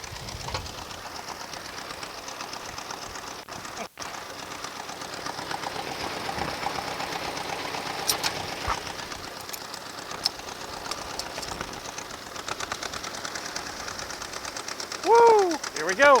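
An old Ford tractor with a stuck clutch chugs at a steady, fairly quiet pace, its rhythmic engine clatter continuing throughout, with a short squeal and a sudden surge close to the end.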